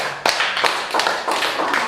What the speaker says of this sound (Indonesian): Tepuk tangan dulu buat Nando